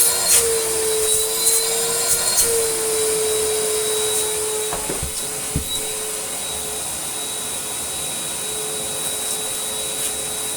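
A Nilfisk Buddy II 18 vacuum cleaner, found by bins and fitted with a swapped motor, runs continuously with a loud steady whine and hum, a few knocks near the middle.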